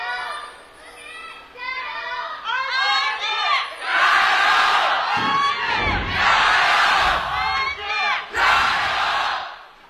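A large live crowd at a League of Legends LPL spring split match between RNG and SNG cheers and shouts loudly, a dense roar that swells throughout and mixes with voices talking over it.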